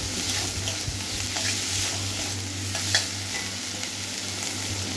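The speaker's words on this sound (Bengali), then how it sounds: "তারপরে খোলা ছাড়ানো চিংড়ি মাছটা দিয়ে দিলাম, ভালোভাবে এবার কষে।" Shelled shrimp sautéing in an oiled pan, a close, constant sizzle with occasional stirring scrapes and a low steady hum beneath, no voices.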